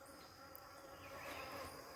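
Bees drilling into a mountainside make a faint, steady insect buzz that holds evenly throughout, with no talking.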